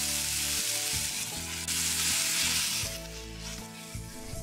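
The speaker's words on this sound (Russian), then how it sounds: "Затем обжарить на растительном подогретом масле, добавляя щепотку сахара" Onion frying in heated vegetable oil with a pinch of sugar, a loud, steady close-up sizzle and crackle that runs continuously throughout with no speech.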